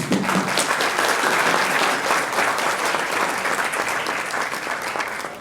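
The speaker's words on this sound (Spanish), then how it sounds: "un aplauso y con eso nos despertamos" Steady applause from a large audience at an engineering ethics forum fills the space, dense and continuous throughout.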